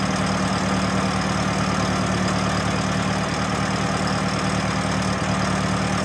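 A 1919 Templar Roadster engine idling while running rich, a loud, steady, close rumble with an even low throb and no talking.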